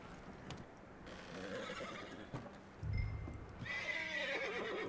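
A horse in the video game Red Dead Redemption 2 gives a loud whinny, with clip-clopping hooves and shuffling around it and a second neigh rising near the end.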